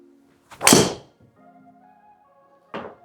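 A golf driver strikes a ball with a loud, firm thwack, followed by a quiet hum and a second, softer impact near the end.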